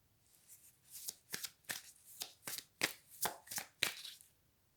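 Tarot cards being shuffled and laid down, a run of crisp riffling snaps and slaps in an irregular rhythm, close and quiet in an otherwise silent room.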